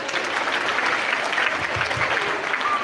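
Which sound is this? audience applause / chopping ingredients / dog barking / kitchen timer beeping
audience applause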